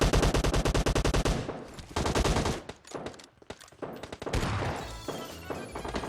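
Automatic gunfire bursts out in the battle game PUBG Mobile, a dense rapid string of loud shots, then scattered single and clustered shots with impacts, with no talk heard.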